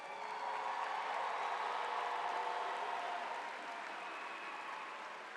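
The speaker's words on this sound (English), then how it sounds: "giving these young people, the class of 2025, a round of applause" A crowd applauds the graduating class at a high school graduation ceremony, a steady wash of distant clapping, faint and even, easing slightly toward the end.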